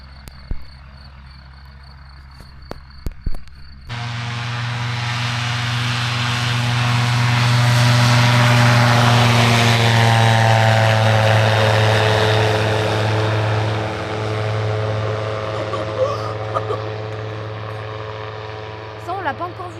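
Powered paraglider engine and propeller, a loud droning motor with a strong steady hum that starts abruptly, swells as it passes close by and then fades away, with faint background noise before and after.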